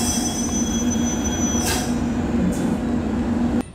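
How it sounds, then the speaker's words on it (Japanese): A train rumbles along the rails departing Bizen-Katakami Station on Japan's Ako Line, with a high, sustained wheel squeal, the sound cutting off abruptly near the end. "列車は播州阿古から6駅目備前片上駅を出発。"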